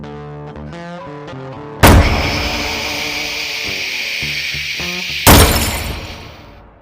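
Two loud, sharp gunshots at a shooting session, each a sudden crack with a long ringing decay, fired over background music.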